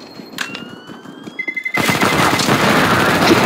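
Gunfire in the video game CS:GO: a quiet opening with a few sharp clicks, then from about halfway a loud, dense burst of automatic shots rattling continuously to the end.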